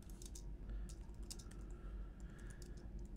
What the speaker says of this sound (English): Just don't know what I'm typing here.